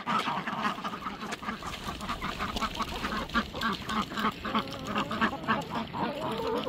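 Several ducks quack in a steady, overlapping chorus close by, loud and continuous throughout.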